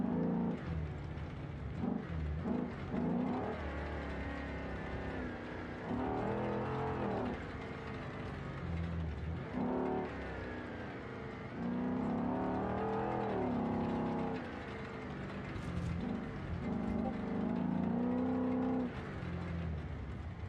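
A big truck engine drives along a trail in the BeamNG.drive video game, with a continuous rumble that rises and falls as it revs and changes load.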